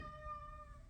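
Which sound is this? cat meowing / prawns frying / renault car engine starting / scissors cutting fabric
cat meowing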